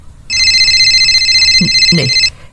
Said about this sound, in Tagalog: Ni mo't Angel tumawawag.